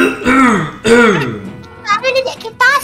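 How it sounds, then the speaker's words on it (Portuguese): A character coughing in the GTA 5 video game: two hoarse, throat-clearing coughs close together, followed by a few shorter, higher voiced hacks, loud and close with no talk over them. "Que tosse é essa?"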